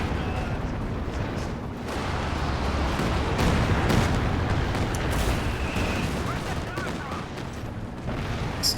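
Artillery barrage in a multiplayer war video game: a dense, continuous rumble of distant booms and overlapping gunfire that swells and recedes for several seconds, with faint commentator talk underneath.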